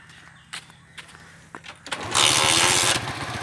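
A motorcycle wired to a speed controller is started after a few quiet clicks and knocks, then its engine catches and runs with a loud, steady buzzing rattle close by.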